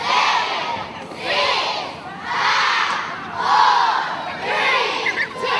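A crowd at an ice bucket challenge cheers and shouts in loud, surging waves, voices swelling and fading roughly every second as the countdown builds.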